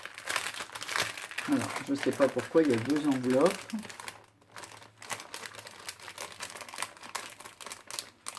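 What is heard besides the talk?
paper and envelopes rustling while being unwrapped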